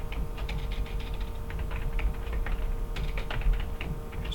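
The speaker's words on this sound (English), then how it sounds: "Sorry for the keyboard sound." Steady typing on a computer keyboard, a continuous run of light, close key clicks with uneven rhythm over a low background hum, no voices.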